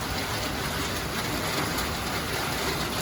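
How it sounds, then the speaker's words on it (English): Steady, even rain falling outdoors, a dense unbroken hiss filling the whole stretch at constant loudness with no voices. "This is just such a pretty, it's a pretty rain."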